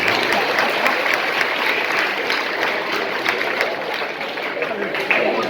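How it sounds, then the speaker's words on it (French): Audience at a storytelling celebration applauds a storyteller's assistant with dense, continuous clapping, loud and sustained, with a murmur of voices mixed in. "Applaudissez mon assistant."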